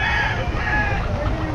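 At the Bocaue pet market on a stormy day, a rooster crows over dense crowd noise and other fowl clucking, all close and loud for a brief stretch.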